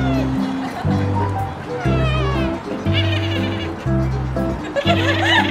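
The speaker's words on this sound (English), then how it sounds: "Screaming goat." At a petting area in Pigeon Forge, Tennessee, a goat lets out several loud, drawn-out bleats close by, overlapping with lively voices and background chatter.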